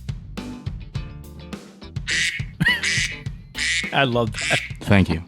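Duck quacking used as an alarm sound, a run of loud, nasal quacks in quick bursts, with a voice speaking briefly amid the calls.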